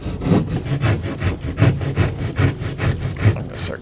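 A hand saw cutting at a shallow angle into a wall alongside a wooden stud, with steady rhythmic back-and-forth strokes, close and continuous, roughly five strokes per second.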